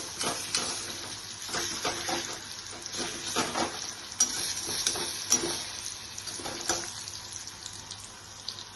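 Besan (gram flour) batter fries in a kadai, hissing in a steady close sizzle with bubbling crackles and occasional stirring scrapes. No one talks.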